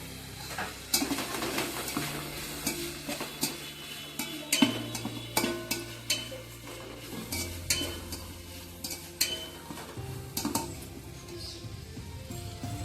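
Potato and carrot pieces frying in a pot for vegetable biryani, with a steady low sizzle under repeated clinks and scrapes of a spoon stirring against the metal, alone and close.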